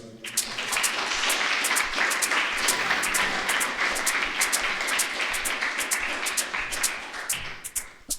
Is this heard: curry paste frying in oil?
no